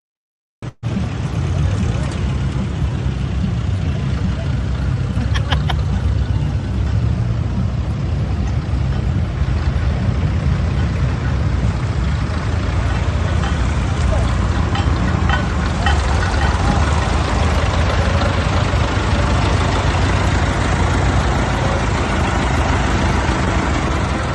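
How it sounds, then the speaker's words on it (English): Classic Israeli farm tractors parade at a Sukkot celebration in a farming community near the Gaza border, their engines droning loudly and continuously, a steady rumble that starts abruptly and holds for the whole stretch. "These are tractors near the Gaza border, Israeli tractors in the farming communities having a little Sukkot celebration today."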